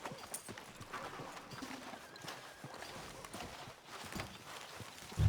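Horse hooves walking on a street in the video game Red Dead Redemption 2, a faint, steady clip-clop rhythm of footfalls heard at a distance, with no talk.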